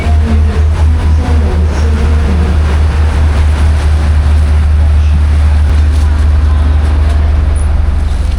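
Steady low rumble and rhythmic clatter inside a crowded Thai sleeper train between Chiang Mai and Bangkok, a constant loud drone with faint voices mixed into the background.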